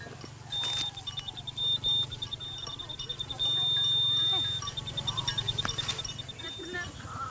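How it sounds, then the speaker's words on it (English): Mine detector sweeping a bomb-infested field in Laos gives off thin high beeping tones, intermittent and then sustained, under a voice talking and steady low background hum. "It doesn't take long before the first detector sounds off."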